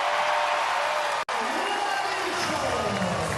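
Parochial home crowd at a WNBL women's basketball semi-final, a steady loud roar of cheering and applause filling the arena, briefly cut off for an instant before swelling again.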